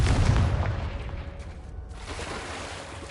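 A Confringo blast in Hogwarts Legacy lands as a single heavy, booming burst right at the start, then rolls off into a dull, lingering rumble that slowly fades.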